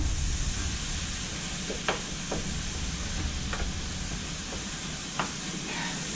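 Browned, seasoned hamburger meat is stirred and chopped in a pan, a steady sizzle beneath a few sharp scrapes and taps of the spatula, close and moderately loud with no talk.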